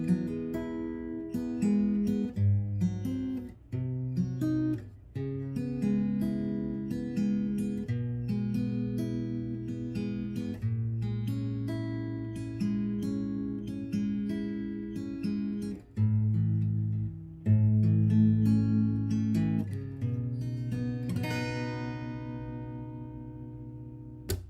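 A guitar plays a section of a song slowly, with a steady series of picked notes and strummed chords ringing out one after another, close-miked and alone for about twenty-four seconds before a final bright strum.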